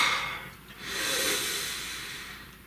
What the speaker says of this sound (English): And please take a nice deep breath.